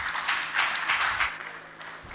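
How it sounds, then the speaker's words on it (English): An audience at a meteorological professional summit claps for its panelists, a brief burst of scattered applause that rises and fades, heard from moderately far. "Please, a round of applause for our panelists."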